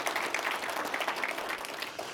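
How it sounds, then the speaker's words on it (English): Conference audience applause at a government technology event, a dense, even wash of many hands clapping continuously at moderate loudness, with no voices heard over it. "please give Chrissy Kuhn a great round of applause"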